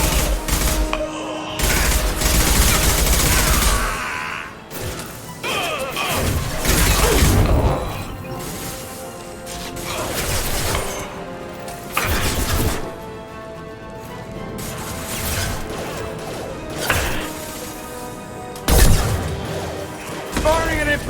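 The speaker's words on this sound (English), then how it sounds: "Firing an impact shot!" Impact shot gunfire in Mass Effect 2, delivered as repeated loud sharp bursts and crashes in a dense combat mix, with speech heard between the shots.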